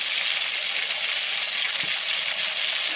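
Tomatoes frying in hot oil with a little turmeric for a taro and prawn curry, a loud, steady sizzle and hiss with oil spattering throughout, close up and without any talk.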